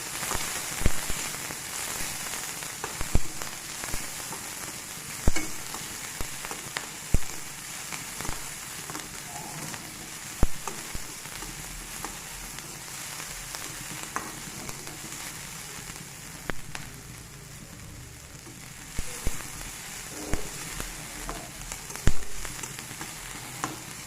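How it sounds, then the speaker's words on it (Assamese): Onions fry in a pan with chillies and cumin, giving a continuous bright sizzle with frequent sharp clicks and scrapes of stirring. It runs steadily at a moderate level throughout, close up, and no one speaks. "পিঁয়াজখিনি ভালদৰে ভাজি ল'ম।"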